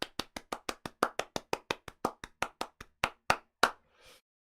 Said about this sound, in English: please do join me in giving Natalia a huge round the world round of applause